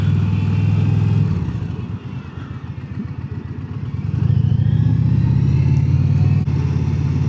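An Indian Pursuit motorcycle engine runs close by, a loud low rumble that softens into a loping idle before rising again into a heavier drone, with no speech.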